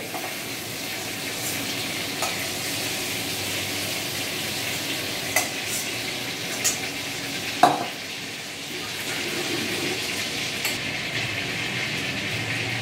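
Cumin seeds and bay leaves temper in hot mustard oil left over from frying prawns, a steady sizzle with occasional spatula clicks and one louder knock, for a prawn and ridge gourd curry.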